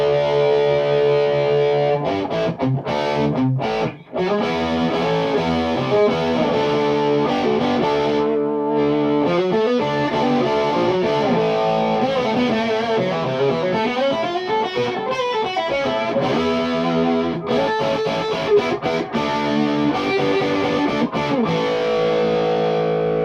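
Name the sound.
electric guitar through Metropoulos Metro-Plex amp, low input jack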